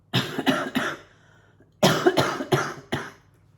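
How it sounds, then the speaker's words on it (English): A woman on a knitting podcast coughs in two close bursts, three rough coughs, a short pause, then four more, loud and near with no talk around them. "I'm just going to have to cough."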